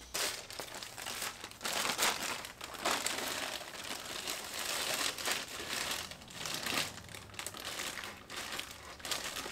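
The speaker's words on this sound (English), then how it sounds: "I threw the plastic bag over the oil filter as I removed it" A plastic bag crinkles and rustles close up as it is held over an oil filter being removed during a remote oil filter kit installation, a continuous crackling texture with louder crunchy swells.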